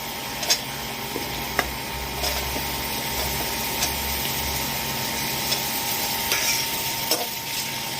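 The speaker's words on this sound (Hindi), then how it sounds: "अब हम प्याज डालेंगे, लहसुन अदरक के बाद।" Onions sizzle and fry in a pan with ginger-chili paste for Indian masala pasta, a steady low crackle with scattered stirring clicks and scrapes, close and continuous with no talk.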